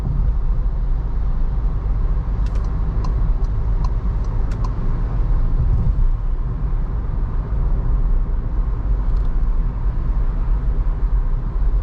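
Skoda Slavia 1.5 cabin noise while cruising on a highway at 80 to 120 km/h, a loud, steady low road and engine rumble with a few faint ticks and no talk.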